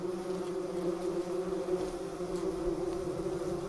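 Bumblebees buzzing steadily inside a nest built in an abandoned mouse nest, a continuous close, low droning hum from many insects with no voices.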